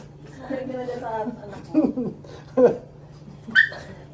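A dog whimpers and yips in short, high whines, with a person talking softly in between.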